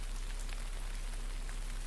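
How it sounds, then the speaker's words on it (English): Quiet, steady rainfall from the video game Dark Nights, an even hiss of drops pattering on surfaces with a few faint individual droplet ticks, continuous and alone. "I don't want to stay in the rain any longer than necessary."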